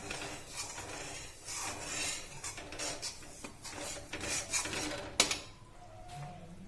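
Jaggery is stirred in a cooking pot with steady scraping and clinking of a spoon against the metal, continuous and close, with one sharp knock near the end.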